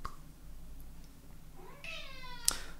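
A house cat gives a single drawn-out meow, fairly close and clear in a quiet room, rising then falling, followed by a small sharp click.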